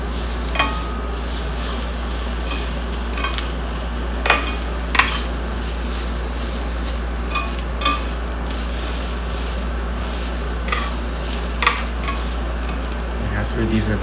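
Food frying in a pan in a small studio apartment, a low steady sizzle with scattered metallic clinks and scrapes of stirring against the pan, close and unaccompanied by talk.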